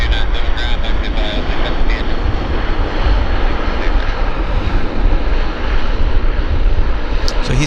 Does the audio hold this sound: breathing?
no